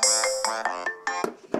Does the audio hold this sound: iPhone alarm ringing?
yes